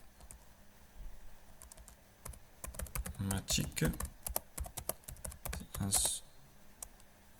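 Typing on a Mac computer keyboard while renaming a file, a run of quick, close key clicks building into a denser burst midway, with faint talk in the background.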